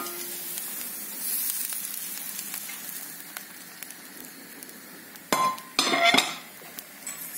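Fried onion tipped from a pan into a pot of Breton-style beans: a soft, low sizzle hangs in the background, then two short, louder bursts of scraping and clattering come near the end.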